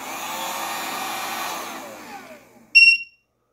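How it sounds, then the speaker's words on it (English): A heat gun blowing hot air on a low setting runs as a steady, close whoosh for about two seconds, then winds down and cuts out, followed by a brief bright electronic beep. "we'll go low on the heat gun for an additional 700"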